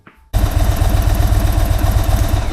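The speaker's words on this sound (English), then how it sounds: "we're going to run the bike for 1 minute" An Indian Chief Darkhorse motorcycle engine starts up and idles steadily, with a loud, close, continuous throbbing rumble.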